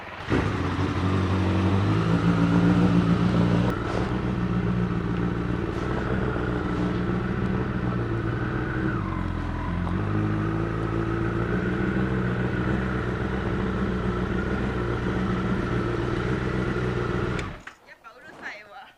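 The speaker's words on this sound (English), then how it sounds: "I just thought it's cool riding my bike to go pick up my other bike." A Honda CBR motorcycle engine droning steadily while riding in Japan, loud and close with a constant low hum and slight pitch shifts, then a sudden cut-off with wind buffeting near the end.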